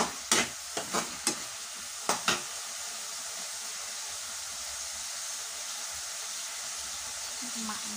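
Spring onions being stir-fried in a pan, a few sharp clanks of a spatula at the start followed by a steady, soft sizzling hiss that carries on alone at moderate volume.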